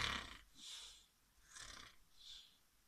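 A voice imitates a rooster snoring, three drawn-out rasping breaths spaced evenly, with quiet gaps between them.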